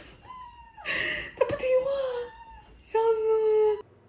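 A small kitten makes little high-pitched mewing noises, a few short squeaks and a longer trailing cry close to the microphone, fairly quiet with gaps between.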